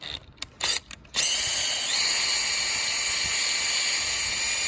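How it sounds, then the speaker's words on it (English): A few short bursts of a power drill revving, then one steady high whine as it bores a 5mm hole through a CRF110 skid plate, close and fairly loud. "Really, all you got to do is just get your drill bit. It's a 5mm, and drill that thing."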